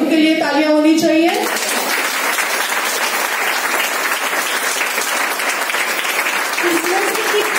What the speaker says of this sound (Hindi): खुद के लिए तालियां होनी चाहिए